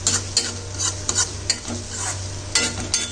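A paste of ground ridge gourd peel sizzles in a wok while a spatula stirs and scrapes it. Sharp scraping strokes recur at irregular moments over a steady frying hiss. Nobody speaks.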